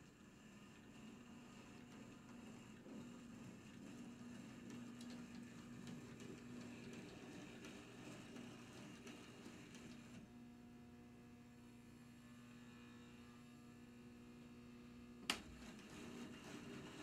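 An HO-scale brass 2-8-0 steam locomotive model with a can motor runs sluggishly, giving a faint, steady electric whine and hum, with a sharp click near the end.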